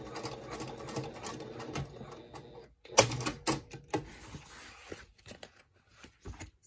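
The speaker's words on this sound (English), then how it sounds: "go over it for about a quarter to a half inch to lock those stitches in place and do just a tiny tack stitch" A sewing machine runs a tiny tack stitch to lock the stitching on a lined zippered pouch, with short bursts of rapid mechanical clatter broken by brief pauses and small handling clicks, heard close.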